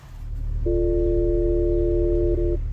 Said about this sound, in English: Now we have tone 1 here,